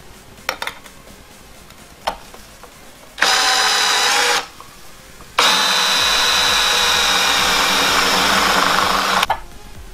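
Drilling holes in a metal lid for a homemade smoke tester: a few sharp taps, then two loud, close, sustained whining drill runs, the second longer, grinding steadily through the metal.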